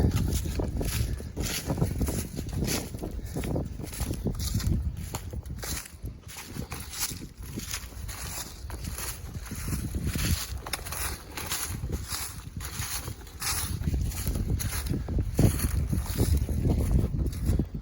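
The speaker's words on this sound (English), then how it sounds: "But that wind is still wicked." Strong wind gusts across a boat out on the water on a cold day of trap hauling, roaring steadily with buffeting microphone rumble and occasional knocks and thumps, with no voices.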